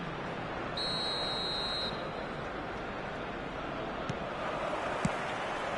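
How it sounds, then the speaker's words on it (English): In a football video game, a referee's whistle blows once, a bright sustained tone of about a second, for the start of the second half over a steady stadium crowd roar. "Whistle goes, and we start the second half."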